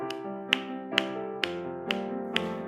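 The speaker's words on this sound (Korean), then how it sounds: "우리 박수하면서 찬송하겠습니다." A church congregation clapping along to a Korean hymn during a Wednesday service: six sharp, evenly spaced claps about half a second apart over sustained sung or organ tones.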